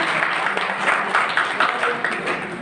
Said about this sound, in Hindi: तालियां की आवाज कुछ कम आ रही है।